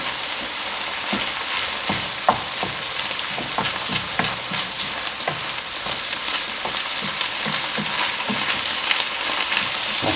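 Minced meat for lasagne fries in a pan with steady, close sizzling and crackle, broken by repeated scraping taps as it is stirred and moved around, with no talk.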